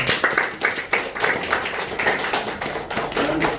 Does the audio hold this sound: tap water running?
no